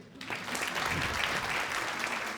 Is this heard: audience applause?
yes